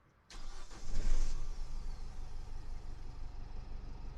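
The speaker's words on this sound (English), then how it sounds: "What we want to do now is start up the van" A Vauxhall Vivaro van engine cranks briefly and catches, then settles into a steady idle that stays close and continuous to the end.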